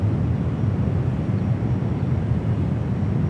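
A Porter Airlines Embraer E2 jet departs, a loud steady low jet-engine roar filling the whole stretch with no voices.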